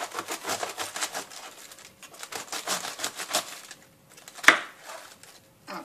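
A knife chops cabbage into strips on a cutting board, a series of quick, light, irregular knocks close by, with one sharper clack near the end.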